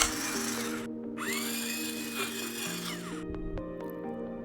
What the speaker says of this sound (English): Process until smooth and creamy, about 3 to 5 minutes.